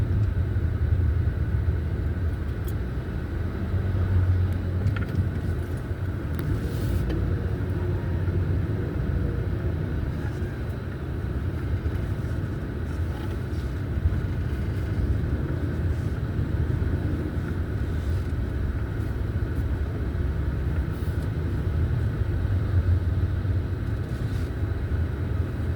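Road traffic on the way to the beach, heard from inside a vehicle as a continuous low engine and road rumble, with faint passing sounds over a steady drone.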